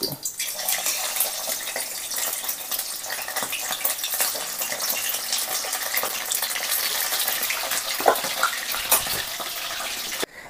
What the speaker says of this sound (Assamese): ইতিমধ্যে আমাৰ চিকেন খিনি প্ৰায় ফ্ৰাই হৈ গ'ল